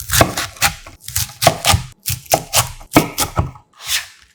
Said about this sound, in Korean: 4cm 길이로 잘라서